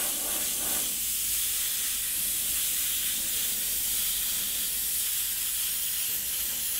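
Airbrush spraying Createx Candy paint over a white base: a steady, close airy hiss running the whole time without a break.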